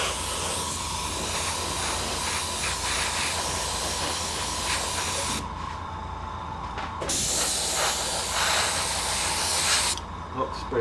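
An airbrush sprays paint onto a Lamenters Thunderhawk model in a steady, loud hiss that runs nearly continuously, with two brief gaps where the airflow cuts off before resuming.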